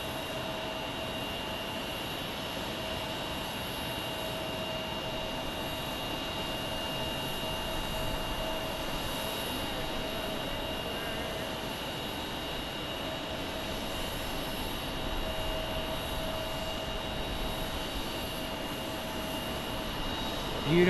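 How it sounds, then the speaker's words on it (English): An American Airlines Boeing 737 MAX 8 jet landing at Phoenix Sky Harbor International Airport gives off a steady, distant engine drone with a thin whine, constant and unbroken throughout. "This looks like a MAX 8."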